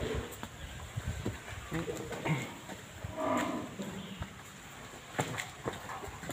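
Cattle on a farm in Củ Chi, Ho Chi Minh City, moo in several long, moderately loud calls, with smaller thuds and rustles between them and someone speaking over parts of it.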